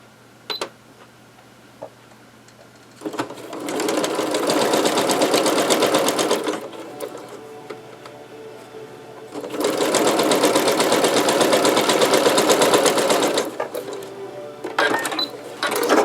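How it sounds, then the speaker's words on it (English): A sewing machine stitches fabric for a small mug rug in two sustained runs of about three and four seconds, loud and close, separated by quieter pauses with faint handling noise. "And now I just want to sew a little stitch here."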